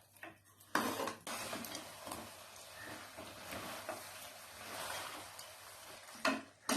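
Mutton gravy with chili and coriander powder is stirred in a pan, giving bursts of scraping and sizzling that swell and ease in uneven strokes, fairly close and moderately quiet.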